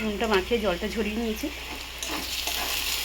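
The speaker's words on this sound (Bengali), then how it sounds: "তো পেঁয়াজটা ভেজে ভেজে ফিরছি।" Onions frying in oil for a lotiya (Bombay duck) fish dish, a steady sizzle running under close talk at first, then carrying on more openly toward the end.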